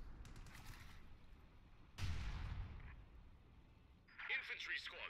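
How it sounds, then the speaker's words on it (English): Artillery fire booms in a World War II battle for Caen in a strategy game, with a heavy blast around the midpoint trailing off into rumble and a later burst of distant crackle. "And we have artillery going down."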